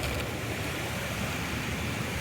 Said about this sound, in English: next to this beautiful waterfall, because that's how we roll in the Sierras